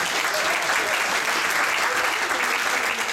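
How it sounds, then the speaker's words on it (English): Wedding guests at a reception giving a round of applause during the best man's speech, loud, dense clapping that continues evenly for the whole stretch. "A round of applause for them."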